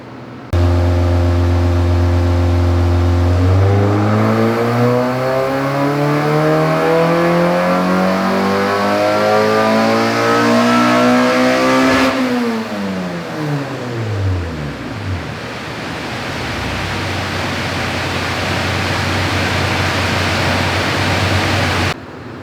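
A K24-swapped Mazda Miata on a power run climbs in one long, loud rising engine howl for about twelve seconds, then the revs fall off and settle into a rough idle, with no talking.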